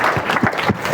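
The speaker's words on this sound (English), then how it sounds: "Let's give him another round of applause." Audience applause at a motivational talk, a dense, steady wash of many hands clapping, loud and continuous with no gaps.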